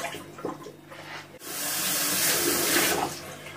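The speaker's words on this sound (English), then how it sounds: "I'm going to put some new water in there." Water gushes loudly from a tap and splashes into a flower vase, starting abruptly after a short quiet stretch with faint rattling and continuing strongly.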